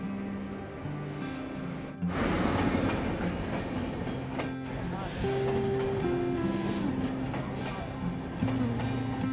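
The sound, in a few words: Champaran Humsafar Express train arriving at Khagaria station platform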